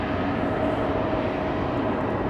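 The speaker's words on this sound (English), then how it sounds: "E2 Embraer 195 to Bilbao in the north of Spain, KLM flight" Steady, broad engine roar from a KLM Embraer 195 E2 jet at Amsterdam Schiphol, a continuous even rumble with no breaks over a couple of seconds.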